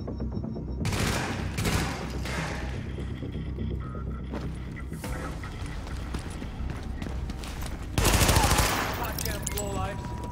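Rapid bursts of automatic gunfire crackle repeatedly in The Division video game, a loud firefight with a heavier volley near the end and voices in the background.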